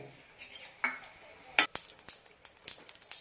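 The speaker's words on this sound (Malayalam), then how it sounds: "ആദ്യം നമുക്ക് എള്ളൊന്ന് വറുത്തെടുക്കണം" Sesame seeds dry-roast in an oil-free pan with scattered sharp metallic clinks and light ticks of a spatula against the pan, close and sparse, with no talking.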